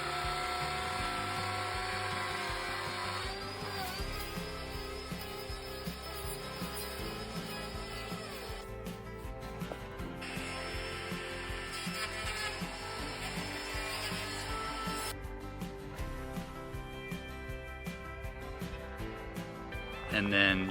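A router cuts timber posts through a timber template, a loud, continuous high whine with shifting grit and brief dips, running for about twenty seconds, while a voice talks faintly underneath.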